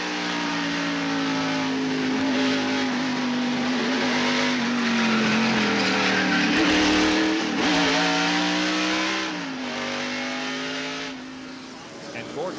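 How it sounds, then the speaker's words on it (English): A 1993 NASCAR stock car at Bristol Motor Speedway, heard from the in-car camera as it runs through turn 3: a loud, sustained engine drone whose pitch dips and climbs with lifting and reaccelerating, steady and close throughout. "Let's look at this in-car camera from Jeff Gordon's car and listen to it as they go down turn 3."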